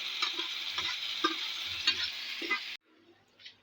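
Beef with okra (bhindi gosht) sizzling in a frying pan as a spoon stirs and scrapes it, a steady hiss with regular clanks, then the sizzle drops away abruptly, leaving faint quiet sounds.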